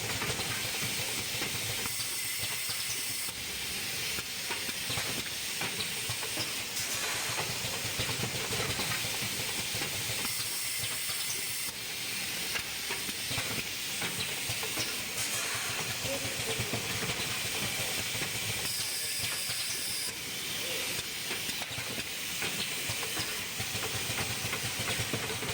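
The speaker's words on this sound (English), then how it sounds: "Bags picking up from the horizontal bags loading machine." Coffee gusset pouch packing machine picking bags from a horizontal bag loader, giving a continuous hissing pneumatic and mechanical whir with periodic cycling bursts of air, steady and unbroken with no talk.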